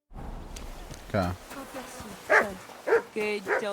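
A dog in the medieval game Kingdom Come Deliverance II gives a few short, close barks and whines, separated by quiet gaps.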